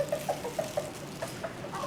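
A rooster runs in and clucks outdoors, giving a series of short, fairly quiet clucks at irregular intervals over a steady background hum.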